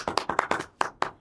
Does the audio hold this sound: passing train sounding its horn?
no